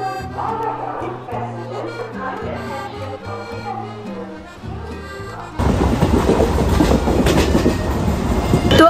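Music plays first, then a moving train departing Azimganj toward Bardhaman abruptly takes over with a loud, dense rumbling roar and rattle that continues to the end.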